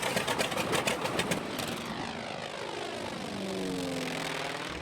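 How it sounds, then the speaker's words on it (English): A 1955 North American T-28 propeller plane flies with a steady droning engine and propeller roar, its pitch sliding and shifting as it passes, loud and continuous throughout. "I got to fly in the 1955 North American T-28"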